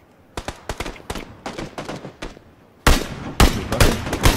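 Gunfire from the PUBG video game. Sharp shots crack in quick bursts, some spaced and some rapid. Louder, denser volleys follow near the end.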